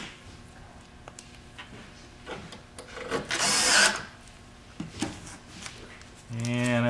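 Screws being driven in while fitting a fuse assembly at a Camping World site, scattered tool clicks and scraping, with one louder burst of power-tool whirring, all under a speaking voice.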